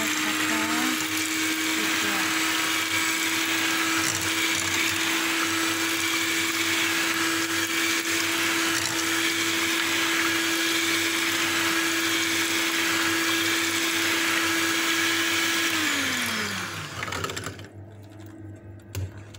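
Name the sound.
electric mixer blending orange cake batter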